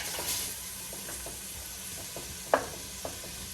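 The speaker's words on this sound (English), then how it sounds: "I'm browning this up" Ground beef browning in a pan for hamburger soup gives a soft, steady sizzle and hiss, with a few light scrapes and taps from stirring, one sharper clink near the end.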